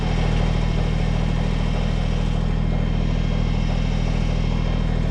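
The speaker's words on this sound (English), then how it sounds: "As you hear, the Kubota is warming up, getting ready for the dig." A Kubota BX25D compact tractor's diesel engine warms up at idle before digging, a steady, close, continuous mechanical rumble with a light clatter and no breaks.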